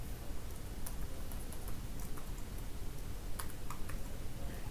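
Quiet, steady typing on a computer keyboard: a run of soft, irregular key clicks with a few sharper taps, close by and with no voices.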